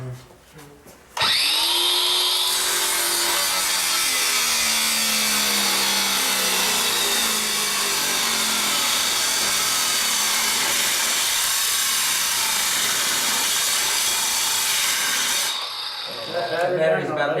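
A cordless angle grinder cuts through a brass lock, starting abruptly and holding a loud, harsh, continuous high-pitched scream for about fourteen seconds before winding down, close to the microphone.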